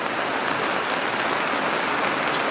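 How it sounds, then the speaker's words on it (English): Heavy rain pouring onto a sailboat at sea during a storm, a dense, steady hiss of drops drumming on the deck and surfaces, loud and unbroken throughout. "It's a lot of rain."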